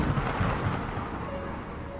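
Rumbling thunder with a lightning crack from the video game Void, a loud broadband roar filling the whole stretch and slowly fading, with a faint tonal hum appearing near the end.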